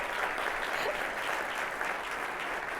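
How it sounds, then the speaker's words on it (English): A crowd applauds at a city's annual State of the City address, a dense, steady wash of clapping that holds evenly throughout at fairly close range, with no voices over it. "Round of applause for that."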